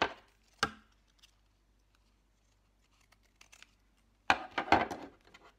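Scissors cutting paper ephemera to length for a vintage junk journal: one sharp snip early, a long quiet pause, then a cluster of crisp cutting and crinkling paper sounds close by.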